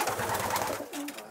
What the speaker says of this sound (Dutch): Alle jaren dat we hier zitten hebben we altijd wel duifjes gehad.